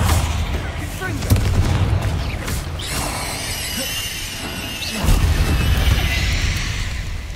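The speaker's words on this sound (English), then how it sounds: "太早引爆了" An early detonation in the Hogwarts Legacy video game: heavy booming blasts with crashing debris, a loud burst near the start and another surge around the fifth second, over a rumbling low background.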